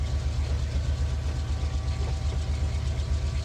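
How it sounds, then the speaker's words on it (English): Diesel locomotive engines in the Run 8 Train Simulator video game working hard at notch 3 while pulling a heavy load, a steady, loud low rumble with a faint tonal whine above, continuous throughout with no talking. "Listen to those engines roar."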